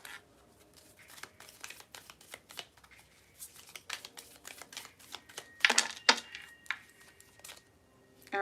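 Tarot cards are shuffled by hand in quick, quiet riffles and soft clicks, irregular and close, with one louder burst of flicking partway through.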